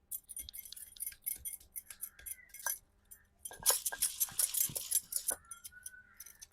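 Ten to twelve garlic cloves coarsely crushed for frying ribbon fish, Koli style, giving close, irregular clinking and knocking bursts with short gaps and a denser run in the middle.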